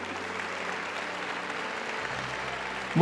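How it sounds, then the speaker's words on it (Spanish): A church congregation applauds, a soft, diffuse, even patter of many hands heard from a distance, ending in a brief louder burst of sound at the very end. "Ay, denle un aplauso al Señor, ¿no?"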